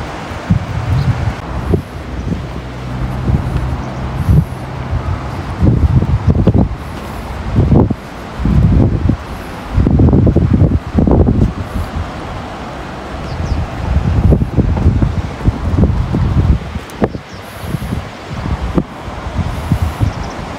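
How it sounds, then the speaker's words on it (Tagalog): Gusty wind at the Gero Onsen hot spring resort in Japan buffets the microphone in loud rumbling bursts, with rustling in the background and no voices. "Malakas po yung hangin kaya medyo maginaw po,"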